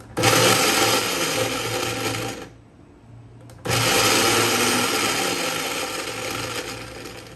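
A mixer grinder blends ginger and garlic into paste: a loud, close whirring run, a brief near-silent pause of about a second, then a second run of the same harsh grinding.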